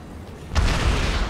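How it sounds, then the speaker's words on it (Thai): An explosion goes off in the video game Dead Rising 3, a sudden loud boom that bursts out midway and rumbles on with a heavy low-end roar. "ระเบิดกันต่อไปเถอะ"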